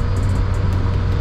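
A car driving, its steady engine and road rumble loud and close throughout, with no talking over it.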